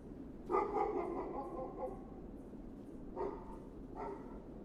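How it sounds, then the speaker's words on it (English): A dog barks in a horror video game: a loud cluster of barks up close, then two shorter single barks after a pause, over a steady low background rumble. "it sounds like that damn dog Stonewall alive and well"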